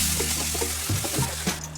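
Mashed amla (Indian gooseberry) goes into a hot kadai with oil and turmeric powder, setting off a steady, close sizzle with faint stirring scrapes and no talking.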